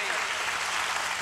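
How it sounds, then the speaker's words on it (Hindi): Crowd applause greeting the guru at a Shri Ram Katha religious gathering in Ramnagar, West Champaran, Bihar: a dense, steady wash of many hands clapping together, loud and continuous throughout. "दोनों हाथ उठा करके करतल ध्वनियों के साथ पूज्यपाद सद्गुरुदेव भगवान का तालियों के साथ स्वागत करें"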